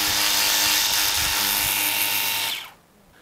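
A 24V cordless pressure washer jet sprays water onto solar panels, giving a loud steady hissing whine with a motor hum that runs for over two seconds and then cuts off abruptly.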